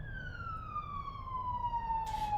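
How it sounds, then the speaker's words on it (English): A siren wails with a single long, slowly falling tone, fairly distant but clear over low traffic rumble, with a brief noisy burst at the end. "Sirens are going off."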